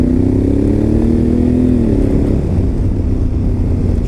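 A Honda Africa Twin motorcycle engine drones loudly and steadily while riding, with a low rumbling tone. The pitch holds, then eases down partway through as the bike settles into a lower note.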